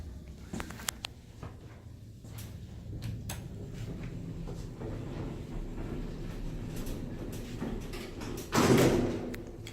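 A Schindler MT 300A hydraulic office elevator at a hotel clicks softly at its door interlock, then the door slides shut with a short thud near the end, amid a low steady hum.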